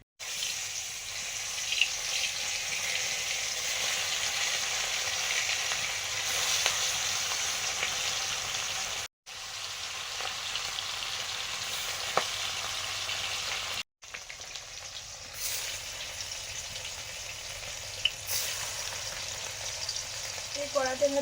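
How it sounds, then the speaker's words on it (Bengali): Fish frying in oil in a wok over a stove, one of two woks going side by side: a steady close hiss and crackle that runs almost unbroken, with two brief dropouts and a faint clink near the end. "দুদিকে দুটো কড়া বসিয়েছি, তেল দিয়ে দিলাম। দু রকমের মাছ ভাজা হবে।"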